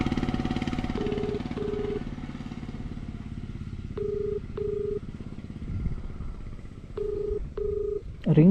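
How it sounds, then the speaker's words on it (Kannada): Phone call ringback tone heard through a motorcycle helmet communicator, short repeated beeps in pairs over a steady motorcycle engine rumble that fades partway through. "ರಿಂಗ್ ಆಗ್ತಿದೆ ಈ ಕಡೆ."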